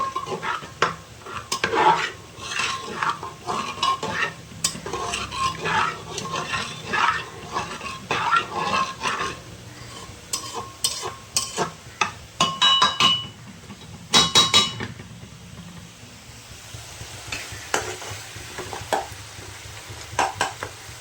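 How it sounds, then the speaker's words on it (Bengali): A spoon stirs mung dal with added water in an open pressure cooker, giving repeated scraping clinks and metallic taps against the pot, with quieter stretches between bursts. "এদিকে কুকারের ঢাকনাটা আমি খুলে নিয়েছি। দেখুন এর মধ্যে আমি একটু জল দিয়ে দেবো। জল দিয়ে ভালো করে নেড়ে নেব।"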